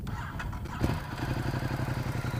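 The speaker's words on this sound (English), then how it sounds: "give you a little sound of the exhaust." A stock-exhaust 2019 Ducati XDiavel motorcycle engine cranks and catches, settling into a close, steady, pulsing idle rumble.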